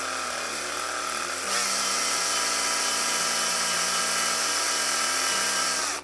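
Power drill on its lowest speed boring into a thick pewter or resin part for a Forge World Warlord Titan weapon, a steady whining drone for about six seconds with slight pitch shifts, close and loud with no talking.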